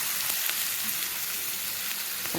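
Onions sizzling in a small amount of oil in a pan, a steady close crackle and hiss with occasional louder pops, no voices.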